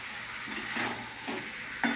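Meat and potatoes are stirred in a frying pan, with scraping strokes every half second over a continuous close sizzle and no voices.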